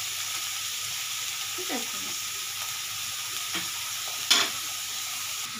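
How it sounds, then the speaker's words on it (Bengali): Food sizzles softly and steadily in hot oil while ghugni is being made, with occasional clinks of a spatula against the pan and a brief voice near the end. "ভাজা আমার প্রায় হয়ে এসছে।"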